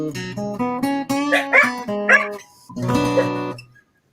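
A dog joins in with howling, whimpering vocal tones over sustained tonal sounds, close and fairly loud, lasting several seconds before cutting off.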